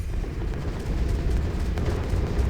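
Bomb tower explosions in the video game Bloons TD Battles 2 merge into a steady, dense low rumble of booms that holds at an even loudness throughout, with no voice present.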